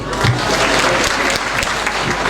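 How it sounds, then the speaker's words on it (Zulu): A congregation at a memorial church service for a late Ukhozi FM radio broadcaster breaks into loud, dense applause that stays steady and close throughout, with no speech over it. "Ngicela ngishayele ihlombe."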